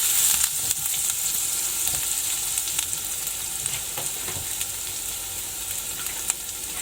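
Finely chopped garlic and ginger fry in a pan for a Rajasthani daal, giving a steady, close, continuous sizzle with light stirring scrapes throughout and no voices.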